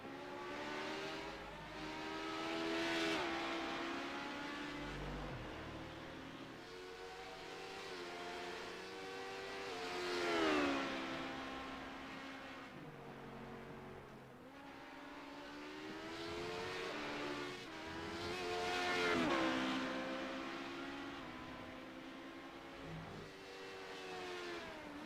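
Daytona Prototype, Honda LMP2 and GT race cars race at Silverstone, their engines rising and falling as they accelerate, shift and pass in repeated waves, loud up close, then fading into the distance.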